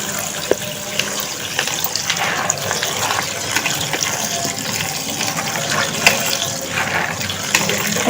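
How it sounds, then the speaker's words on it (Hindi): Steady running tap water splashes over cut cauliflower florets being washed in a kitchen sink, a continuous close gush with small clatters and shifts as the pieces are rinsed. "ये देखिए मैं गोभी वॉश कर रही हूँ।"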